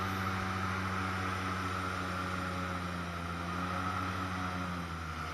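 Airboat engine in Florida drones continuously, a loud, steady low hum with strong tonal harmonics and rushing wind, heard throughout with no voices.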